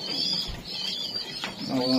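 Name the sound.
racing pigeons cooing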